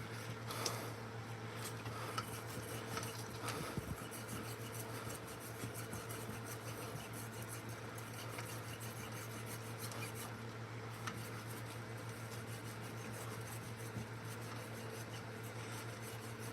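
Dirt and grease are scrubbed off a Jeep 3.7L cylinder head with continuous faint rasping and rubbing strokes, steady and close, under a low constant hum.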